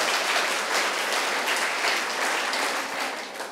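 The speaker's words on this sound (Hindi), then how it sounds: "जोरदार ताली आप मेरे लिए बजा सकते हैं।" Loud, dense audience applause fills a Buddhist vihar gathering in Nagpur, a steady wash of many hands clapping that tapers slightly at the end, with no talking over it.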